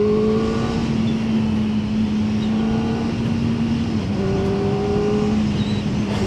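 A 2025 Kawasaki Ninja ZX-4RR engine revving hard while riding, its steady high-pitched buzzing drone holding loud and close, dipping briefly as it shifts before climbing again, with wind noise underneath.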